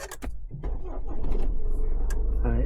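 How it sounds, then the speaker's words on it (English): A Honda CR-V engine cranks briefly and catches, settling into a steady idle with a faint whine, recorded close in a quiet garage with the lights, heater and radio switched off. "start the vehicle. So I'm going to do that now"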